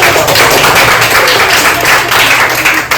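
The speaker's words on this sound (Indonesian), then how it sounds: "Tepuk tangan dulu." Classroom of students clapping together after a group presentation, a loud, continuous, dense patter of many hands close by, sustained for the whole stretch with no talk over it.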